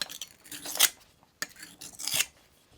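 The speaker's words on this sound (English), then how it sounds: "Hopefully you can hear this. I'm dulling out that knife." A steel knife blade dragged firmly across a piece of granite rock to dull its edge, two long gritty scrapes separated by a short pause, close and clear with no talking.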